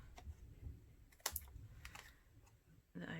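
Scissors trim the overhanging edges of vellum on a handmade bird-and-branches card: a few quiet, crisp snips spaced apart over faint background noise.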